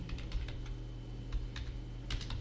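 Close, steady typing on a computer keyboard while entering an accounting voucher, with irregular clusters of key clicks over a constant low electrical hum.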